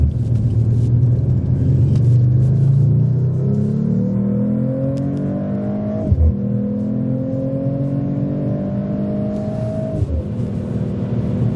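A 2024 Mercedes-AMG CLE53 coupe accelerates hard on a canyon road, its engine note climbing through the gears with two brief dips at the shifts, loud and close from inside the cabin.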